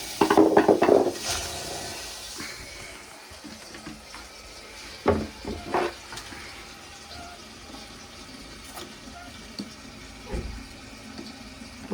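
Water rushes into a toilet cistern as the supply valve is opened in a cloakroom, a loud burst at first, then intermittent gushing and clunks before settling to a quieter filling hiss.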